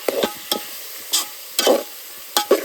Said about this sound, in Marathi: हा ना कांदा नीटपणे भाजून घेऊया